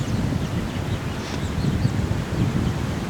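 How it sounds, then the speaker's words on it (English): Strong wind roars steadily past a hunter's tree stand on a cold November morning with snow flurries in Iowa, a dense, continuous rumble with rustling gusts and no voices. "Super windy today, we got snow flurries."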